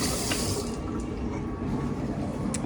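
Water runs steadily from a small tap in an indoor setting, a continuous close splashing hiss with no talk over it.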